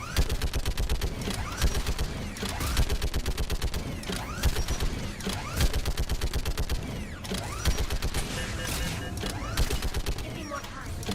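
Rapid mechanical gunfire from a Geth turret in the video game Mass Effect 3, loud repeated bursts of sharp shots with clanking, creaking mechanism sounds between volleys, a voice briefly heard.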